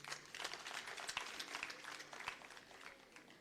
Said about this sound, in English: Let us give a great thanks and an applause to Ssaabasajja Kabaka